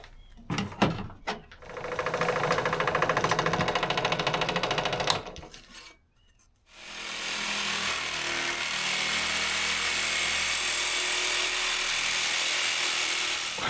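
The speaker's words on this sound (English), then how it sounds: "The jigsaw worked pretty well for cutting that small little circle." A jigsaw cuts ABS plastic in two close, loud runs of rapid buzzing chatter, the first ending abruptly and followed by a short pause before a steadier second run.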